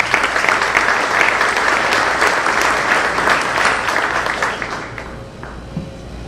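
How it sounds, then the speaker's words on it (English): Audience at a university anniversary gala giving a sustained, loud round of applause, dense clapping that holds steady before easing off toward the end. "So let's give him another round of applause."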